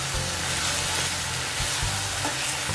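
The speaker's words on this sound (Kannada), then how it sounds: "ಈಗ ಮಸಾಲದು ಹಸಿ ಸ್ಮೆಲ್ಲೆಲ್ಲ ಹೋಗಬೇಕು, ಅಲ್ಲಿವರೆಗೆ ಫ್ರೈ ಮಾಡೋಣ" Mutton masala thinned with mutton stock fries in a pan for a pepper fry, a dense, steady sizzle with repeated thick scraping strokes from a stirring spoon, and nobody talking.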